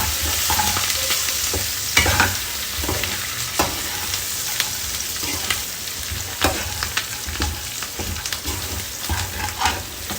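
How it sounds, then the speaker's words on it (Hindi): Curry leaves, green chili and grated ginger frying in ghee in a pan, with a steady sizzle and repeated sharp scraping strokes of a spoon stirring them, close and alone. "उसके साथ साथ हमने इसमें डाला कड़ी पत्ता, हरी मिर्ची और अदरक ग्रेटेड। तो ये डालकर भी हमने इसे अच्छे से हिला लिया।"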